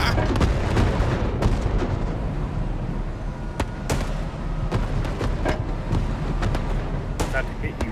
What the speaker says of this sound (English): Ooh, careful, bombing run